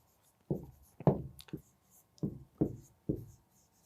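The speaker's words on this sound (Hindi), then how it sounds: "तो हम यहां पर लिखेंगे" Pen strokes scratch across a writing surface during a Quran tajweed lesson, several short distinct bursts with pauses between them, close and fairly quiet.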